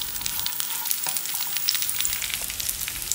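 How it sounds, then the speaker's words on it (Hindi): Almonds, pistachios and raisins sauté in a pan with a soft, steady sizzle and faint crackles. The sound is close and quiet, with no talking. "इसे बस 1 मिनट के लिए हम सौते कर लेंगे ताकि अच्छा फ्राई हो जाए।"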